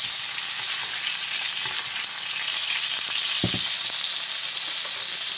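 A steak sizzles steadily and loudly in a hot pan as it is basted, with a dense, even hiss and one brief thud partway through, close up and without talking.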